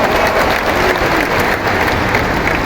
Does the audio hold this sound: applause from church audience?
yes